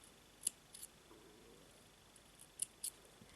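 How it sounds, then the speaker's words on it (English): Scissors snip through bracelet thread at a jewelry-making table, a few faint, crisp clicks in two pairs separated by quiet. "I will take the scissors and cut"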